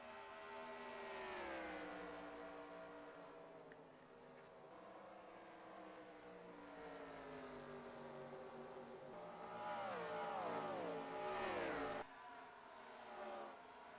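Stock-style race cars in a video game racing league, with several engines droning and rising and falling in pitch as they pass and rev, a steady, fairly loud roar throughout.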